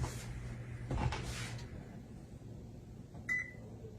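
A kitchen oven door clunks open in a farm kitchen, a couple of short knocks and rattles followed by a brief metallic squeak, fairly quiet and close.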